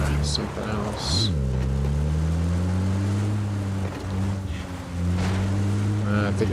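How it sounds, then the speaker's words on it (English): A low boat engine drone in the video game PUBG hums continuously, with a steady rumbling tone that shifts slightly in pitch, like a motorboat running nearby. "I think it's just the sound of my own engine."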